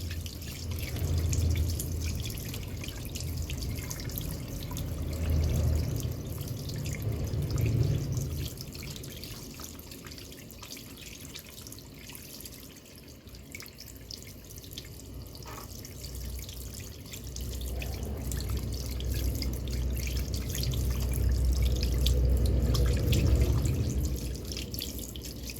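Hands rinsed under a running tap during a surgical hand scrub, with steady water flow and splashing that swells and eases over about twenty-five seconds, close and moderate in level, no voices.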